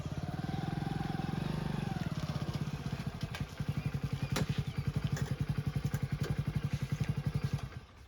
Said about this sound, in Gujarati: બાઈક તો હું લાવી દીધું ને બરાબર બાઈક આવી ગયું ને?